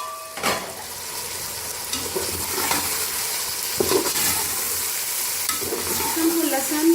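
Chicken browning with garlic, onion and ginger in a pan, a continuous close sizzle with intermittent scraping stirs and small clinks of the utensil, no talking.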